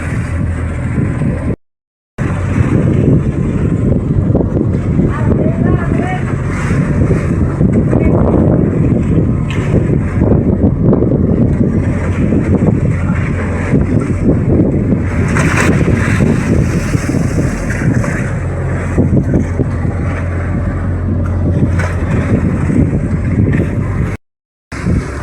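A fishing boat nears a payao, a floating fish-aggregating shelter, through rough waves; steady loud engine and wind roar fills nearly the whole stretch, with sea wash beneath and two brief dropouts.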